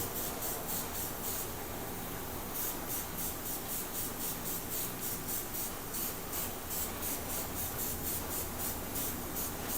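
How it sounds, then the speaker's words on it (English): Airbrush spraying chameleon pigment powder paint, a steady continuous hiss of air running without pause throughout, close and even in level. "Let's spray the front a little darker."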